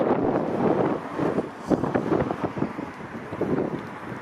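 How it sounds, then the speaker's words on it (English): Strong wind gusts batter the microphone in a continuous roaring rumble on a city street in Toronto's Corso Italia district, with no other sounds. "And it's windy."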